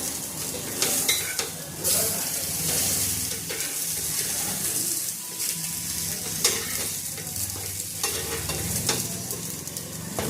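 Taro leaf rolls (alu vadi) sizzling in a pan with a little oil, a continuous crackling fry with occasional scrapes and stirs of a utensil, close and steady, no talking.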